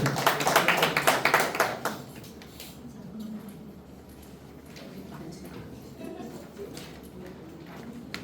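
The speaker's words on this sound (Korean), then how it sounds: "큰 박수로 환영하겠습니다" Audience applause at a church class closing session, a brief burst of clapping from a modest group in the first two seconds, then fading to quiet room noise with light shuffling.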